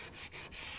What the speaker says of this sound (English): So we're just going to take some sandpaper